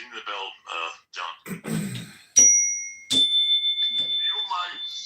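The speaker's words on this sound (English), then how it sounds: "Ding the bell, John." A desk bell is struck twice in quick succession, each ding ringing bright and sustained between bursts of close conversational talk from people in a podcast-style studio.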